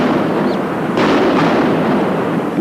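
Gunfire from 1984 unrest in Punjab: sharp cracks and pops rise out of a loud, dense noisy background, with a couple of distinct reports around the middle.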